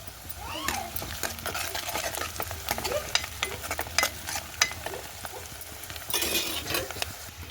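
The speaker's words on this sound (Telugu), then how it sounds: "ఉల్లిపాయలు ఫ్రై అవుతున్నాయి ఇందులోనే కరివేపాకు వేసుకుందాం" Onions and curry leaves fry in a pan for a mushroom curry, giving a soft continuous sizzle broken by stirring scrapes and utensil knocks, with a louder burst of frying near the end.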